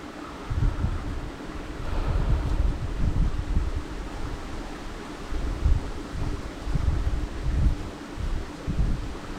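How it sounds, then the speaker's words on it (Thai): Strong wind gusting outdoors on a fishing trip, a steady broadband roar with low rumbling buffets hitting the microphone in uneven waves, no voices. "ลมแรงด้วยครับ"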